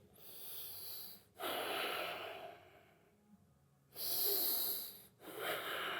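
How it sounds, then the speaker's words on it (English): A coach breathes in a controlled exercise, with alternating loud, airy inhales and exhales separated by quiet pauses, close to the microphone. "So here's breathing"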